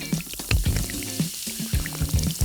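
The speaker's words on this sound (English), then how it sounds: "Let's fill these shapes up with water." Water poured and sloshing into plastic fidget toy shapes, with repeated gurgling glugs and splashy drips close up, several pours in uneven bursts.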